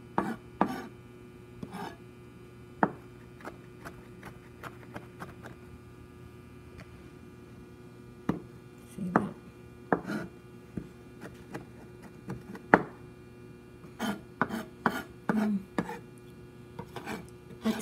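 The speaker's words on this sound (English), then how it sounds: "It has to be really, really finely chopped so that the flavor comes right out of it." A knife finely chops fresh garden thyme on a board, making irregular clusters of light, crisp taps that grow busier later on, over a faint steady electrical hum.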